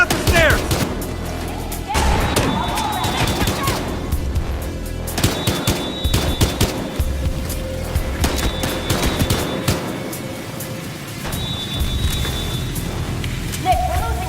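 Dense gunfire in the video game Battlefield Hardline during a downtown shootout at a hotel: sustained crackling fusillade of rapid shots, loud and continuous, layered with game sound effects and occasional talk.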